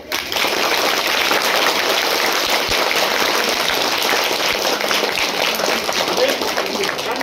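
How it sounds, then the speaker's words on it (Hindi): Loud, continuous clapping from a large group of children at a charity event, a dense even roar of applause that stays steady throughout. "एक बार सब बच्चा जोर से ताली बजाओ"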